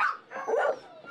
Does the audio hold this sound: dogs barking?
yes